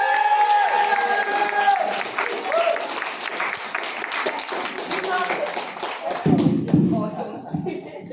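A club audience applauds and cheers a performer at a Catholic men's club in North Shields, clapping mixed with crowd voices and chuckles, followed by thuds and talk as the act begins.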